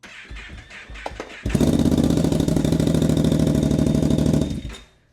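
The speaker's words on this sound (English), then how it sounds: "We're going to do a little cold start on the exhaust." A Gen 3 Outlander with a dual HMF exhaust cold-starts: quiet crank noises, then the engine catches and settles into a loud, steady idle for about three seconds before cutting off.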